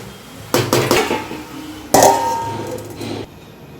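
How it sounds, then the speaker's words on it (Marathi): A metal lid clanks onto a pan of grated carrots frying in ghee, with a few loud rattling knocks as it settles and then a second firm clatter. "थोडंसं झाकण लावून घेते."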